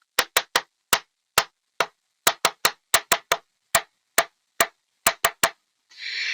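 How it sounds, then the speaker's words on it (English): Sharp percussive taps spell out the SOS distress signal in Morse code: three quick, three spaced, three quick clicks in a clean rhythmic sequence, loud and alone, ending with a brief burst of hiss. "Save our souls signal."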